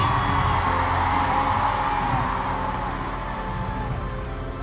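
A huge stadium crowd at Taylor Swift's Eras Tour in Melbourne roars and cheers continuously, a loud sustained wash of voices that tapers slightly toward the end.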